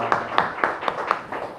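A church congregation gives a short burst of welcoming applause for a returning missionary, with about six distinct, evenly spaced claps standing out clearly in the room.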